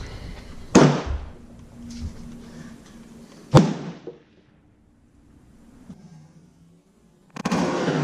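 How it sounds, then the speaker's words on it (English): Two sharp, loud reports from a Savage 111 Trophy Hunter XP .30-06 rifle boom out with decaying tails, followed by quiet and a burst of noise at the end. "here's our 5th and final shot."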